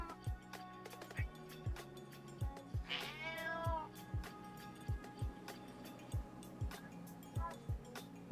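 Cat meowing in Minecraft, with a single short meow partway through over quiet, steady game ambience and a regular ticking pulse of soft clicks.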